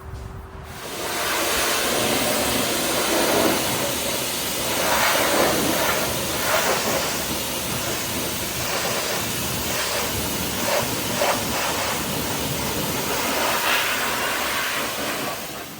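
A pressure jet washer sprays water over the engine bay of a Range Rover. A steady, loud hiss runs almost unbroken for the whole stretch, with small surges as the spray shifts.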